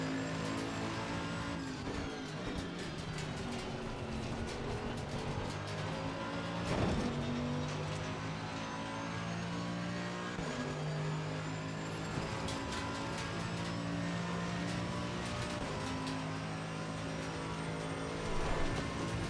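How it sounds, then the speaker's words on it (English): Race cars circling nearby in the Assetto Corsa Competizione racing game, a steady droning engine roar with layered revving tones and occasional swells as other cars pass close, continuous throughout. "You can hear the other cars around you."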